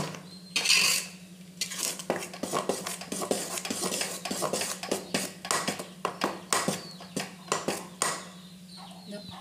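Mysore pak mixture is stirred in a pan with a metal spoon, a run of sharp scraping clinks and knocks against the pan, steady and close, growing quicker and more rhythmic toward the end.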